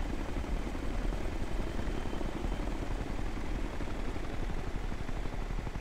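Drone in Ghost Recon Future Soldier, a continuous whirring rotor buzz with a fast pulsing flutter, fairly loud and steady throughout and with no voices.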